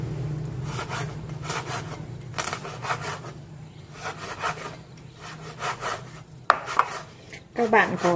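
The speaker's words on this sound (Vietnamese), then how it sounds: "Các bạn thái nhỏ cho mình nhé" A knife chops fish finely on a board for fried fish balls, making a steady run of close, dry scraping and thudding strokes with a few sharper knocks near the end.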